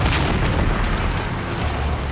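A deep, sustained roar of an explosion rumbles near a temple beside the jungle, heavy low-end booming that stays loud and dense throughout with no voices.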